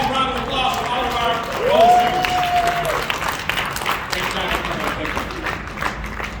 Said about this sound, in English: Everybody, one last round of applause for all of our